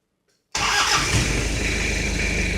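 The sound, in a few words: old Toyota 4x4 engine starting up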